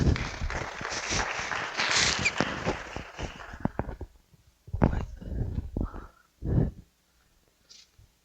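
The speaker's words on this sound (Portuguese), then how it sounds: "Aplauda o Senhor Jesus." An audience in a church bursts into applause. A dense stretch of clapping lasts about four seconds, then breaks into a few isolated claps and rustles before quiet.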